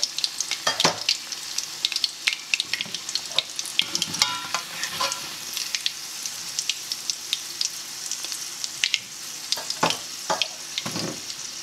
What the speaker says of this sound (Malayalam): ബാക്കിയുള്ളതും കൂടെ നമുക്ക് ഫ്രൈ ചെയ്തെടുക്കാം